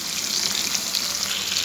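Fish frying in oil in a cooking pot makes a steady, dense sizzle, close and fairly loud, with no voices.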